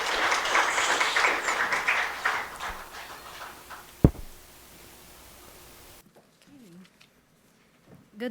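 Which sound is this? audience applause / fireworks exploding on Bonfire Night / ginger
audience applause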